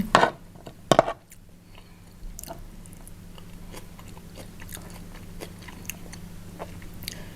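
A large mouthful of pork larb is eaten. A couple of sharp clicks are followed by soft, close chewing and crunching sounds over a low steady hum.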